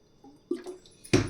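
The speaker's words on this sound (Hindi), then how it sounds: "ये आधा बाउल हम पानी डाल देंगे और इसे हमें चाशनी तैयार करना है।" Water is poured from a bowl into sugar to make syrup for laung lata sweets, heard as quiet, brief splashes and drips ending in a louder close splash.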